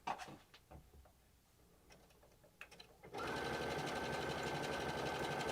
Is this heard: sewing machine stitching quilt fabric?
yes